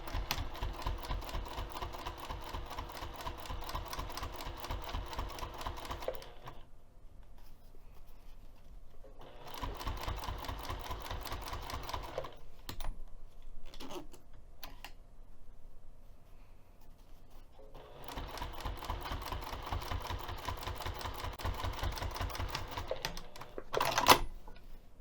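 Sewing machine topstitching a pouch at a 3 mm stitch length, rapid mechanical clatter in three long bursts separated by quiet pauses with small handling clicks and a brief sharp knock near the end.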